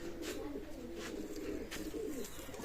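Pigeons coo in low, soft repeated murmurs close by, steady and continuous under a faint background hum.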